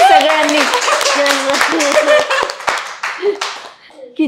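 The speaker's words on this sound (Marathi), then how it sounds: "टाळ्या वाजवा प्लीज सगळ्यांनी." Several people clap together at a family Rakshabandhan get-together, a steady run of hand claps mixed with overlapping voices and chatter that carry on throughout.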